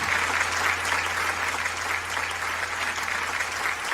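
Audience applause for a singer at a Neapolitan music show, a dense steady wash of clapping filling the whole stretch at even loudness with a faint low hum beneath.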